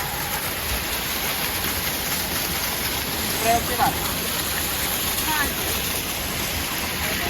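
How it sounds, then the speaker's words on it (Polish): A waterfall on a trip through Hungary and Romania sends out a steady, broad rush of falling water close by, with a few brief louder splashes midway. "to jest ten wodospad"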